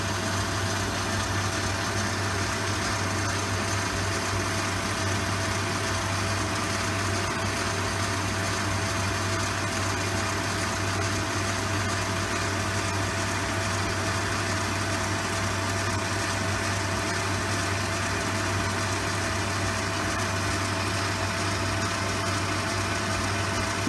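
An Elliot 14 S metal lathe turning at 550 RPM between centres, with a high-speed steel tool and medium cutting oil, gives a steady, even machine hum with a constant low drone, continuous and unchanging throughout, with no voices.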